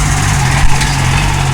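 A farm tractor engine runs close and loud with a steady, low throbbing drone and no clear change in pitch across the short stretch.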